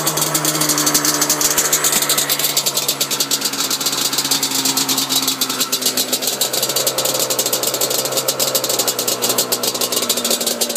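A Yamaha Banshee ATV engine idles steadily after being kick started, a loud, close, rapid two-stroke putter with a buzzing rattle that holds for the whole stretch and has no talking over it.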